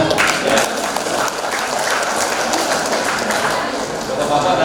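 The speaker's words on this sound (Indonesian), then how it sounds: "Tepuk tangan dulu untuk Anissa." An audience at a savings-and-loan cooperative's annual members' meeting in Pinrang, South Sulawesi, applauds for a woman named Anissa. Loud, dense crowd clapping fills the room at a steady level throughout.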